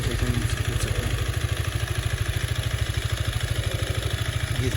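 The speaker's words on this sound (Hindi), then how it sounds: "ये कुछ इसकी बाइक की साउंड है, काफ़ी अच्छी साउंड है।" A Husqvarna Svartpilen 250 motorcycle idles close by, its engine putting out a steady, even stream of rapid low exhaust pulses that continue unbroken and alone.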